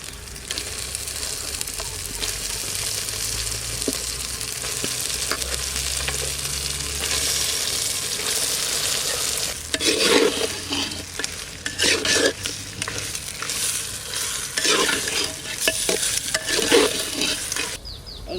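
Duck meat fries with turmeric in a pan in a village kitchen, giving a steady sizzle throughout. Louder bursts of scraping and clattering stirs come in the second half.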